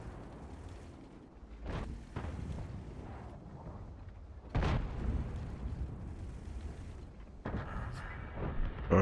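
Tank cannon shots in the video game World of Tanks: a couple of sharp, heavy booms stand out over a low rumbling background.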